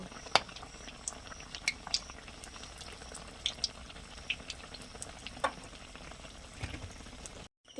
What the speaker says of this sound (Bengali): এইভাবে কিন্তু আমি সব মালপোয়াগুলো ভেজে নেবো